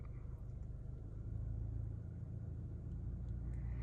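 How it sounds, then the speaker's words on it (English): A 2023 Chevrolet Colorado pickup's engine pulling uphill under light throttle, a low steady rumble that swells slightly and holds, heard from inside the truck with no talking. "let me press on the gas here a little bit"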